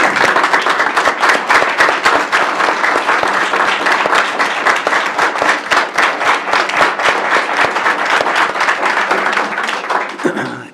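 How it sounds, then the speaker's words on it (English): A room of people at a board of education meeting gives a round of applause, dense, steady clapping for about ten seconds before it stops abruptly. "let's give him a round of applause"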